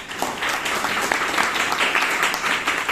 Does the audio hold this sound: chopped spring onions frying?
no